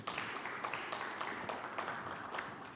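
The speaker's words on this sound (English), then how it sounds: "If I get a nice big round of applause for our next presenter" Steady applause from an audience welcoming a presenter at a monitoring conference talk, a dense even patter of many hands clapping at moderate level with no voices over it.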